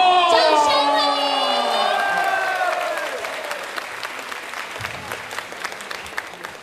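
An audience at a live mini concert claps and cheers to welcome a singer on stage. The sustained applause is mixed with whoops and a sliding voice early on, then slowly thins and fades.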